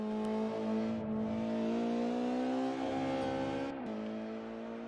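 A 1990s British Touring Car Championship car in a sim racing game at Donington, its engine droning steadily as it climbs through the revs, with gear changes marked by brief dips before rising again.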